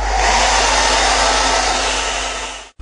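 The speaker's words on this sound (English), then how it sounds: "Now I'm now going to get the hairdryer on it, so I'll come back to you as soon as I've got this dry" A hair dryer drying watercolor paint blows with a loud, steady whooshing roar for a few seconds, then cuts off abruptly.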